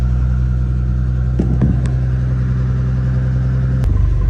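A bus's diesel engine idles in the cold with its turbo completely fried and giving no boost, a loud steady low drone punctuated by a few short clicks and a sharp knock near the end.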